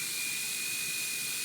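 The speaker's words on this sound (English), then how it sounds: "definitely was a good call to use a good old Craftsman drill" A Craftsman power drill backing out a part on a 2018 Yamaha YZ125 during a reed valve install, a steady high-pitched whine held at constant speed, close and loud.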